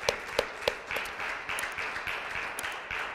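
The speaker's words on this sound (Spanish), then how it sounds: "Démosle un buen aplauso al Rey de Reyes" A church congregation at a Sunday service claps in uneven bursts, scattered sharp hand claps over a low, steady wash of applause at moderate distance.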